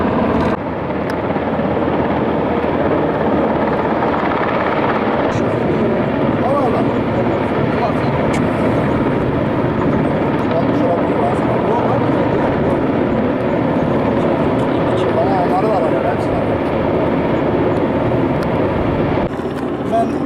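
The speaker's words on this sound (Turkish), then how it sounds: "Helikopterimiz geldi işte." A rescue helicopter arrives over rural Amanos mountain country, its rotor and engine a loud, steady roar throughout, with people talking faintly beneath it.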